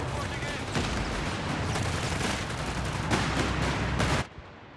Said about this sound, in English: gonna go for the kill on it with the hordes of AT rifles